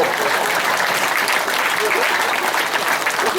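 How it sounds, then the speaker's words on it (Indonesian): Audience applause during an Indonesian talk on family life and Siwa Tantra teaching: a dense, even wash of many hands clapping at once, loud and sustained without pause. "Baru tepuk tangan, mendahului tepuk tangan itu."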